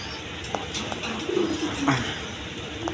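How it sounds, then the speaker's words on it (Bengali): Pigeons coo in soft low repeated calls close by, a pair of kaka and golla pigeons offered for sale, with faint background noise and no talk. "দেখেন একদম সুন্দর কবুতর"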